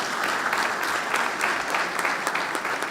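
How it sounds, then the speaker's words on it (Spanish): Loud, steady audience applause fills the room after a conversation event on Venezuelan politics and economy, with dense continuous clapping and no speech over it. "un aplauso muy fuerte para nuestros invitados"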